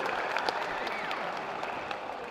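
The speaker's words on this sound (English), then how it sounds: "Round of applause" Audience applause at a pasty crimping contest at the World Pasty Championships, a steady wash of many hands clapping, moderately near and sustained for a couple of seconds with a few louder individual claps.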